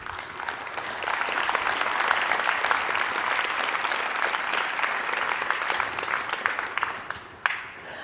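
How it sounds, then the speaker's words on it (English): An audience applauds after a talk on European internet regulation, a dense, even wash of many hands clapping that sustains for several seconds before tapering with a last few claps. "You're the first ones to applaud."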